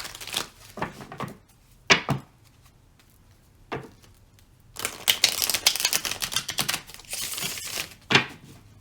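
A Thelema tarot deck is shuffled by hand nearby: scattered card slaps and riffles early, then a longer, dense rustling shuffle, ending with a firm tap.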